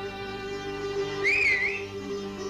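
A single short whistle rises and falls over a sustained tonal background in a Telugu film scene, clear and moderately loud for under a second.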